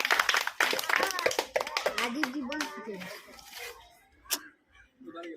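Close hand claps rattle out rapidly during a number-guessing challenge game, mixed with children's voices talking over them, before tapering to a few isolated claps.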